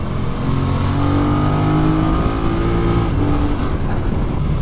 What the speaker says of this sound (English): A very, very torquey motor, very usable. That's what twins give you